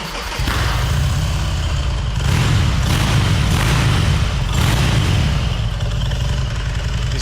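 A custom-built motorcycle engine fires up and runs with a deep, loud, continuous rumble, its revs swelling and settling a few times, with no talk over it.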